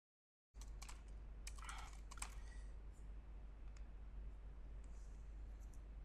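Typing a project name on a computer keyboard in a Python coding setup: a quick burst of close key clicks in the first two seconds, then sparse single taps over a steady low hum.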